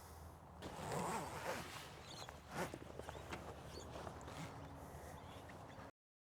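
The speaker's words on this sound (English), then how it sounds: "From there, we'll just zip it the whole way across." A zipper is pulled along the roof of a camper annex tent in several long, close, raspy strokes, loud and near and with short pauses between them, then it stops.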